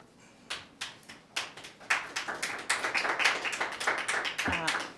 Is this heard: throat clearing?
no